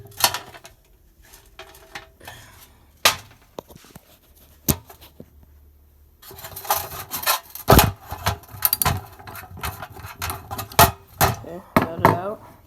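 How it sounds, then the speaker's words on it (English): A wrench works the stubborn bowl bolt on a Honda GCV series carburetor, producing loud, close scraping, grinding and knocking bursts that grow busier and denser in the second half. "And then we need to take out the bowl bolt. They're pretty stubborn."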